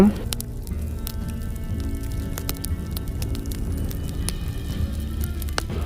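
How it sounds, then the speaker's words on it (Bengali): Boiled-noodle pakoras frying in hot oil, a continuous crackling sizzle with sharp bubbling pops scattered throughout, steady and close. "এখন এটাকে আমি ভেজে নেব।"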